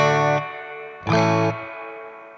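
Plate reverb from a Sonicake Pocketmaster pedal with damping engaged, on two sustained, chord-like guitar strums, each followed by a smooth, darkened decay tail; loud and close, no voices.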